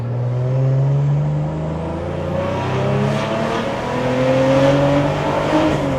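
Subaru WRX converted to rear-wheel drive with a 4.0L Barra six-cylinder engine accelerating hard, a loud continuous engine pull whose pitch climbs steadily through a long gear, heard from inside the car.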